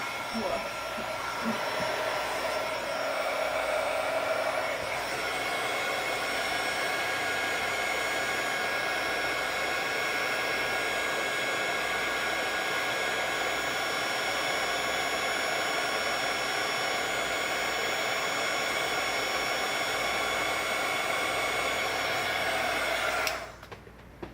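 A heat gun blows a steady, loud rushing whoosh for about 23 seconds, melting embossing powder on a handmade Halloween card, then cuts off abruptly near the end.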